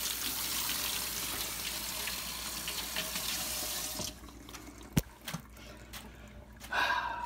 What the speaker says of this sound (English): I'll wash my hands because that's nasty.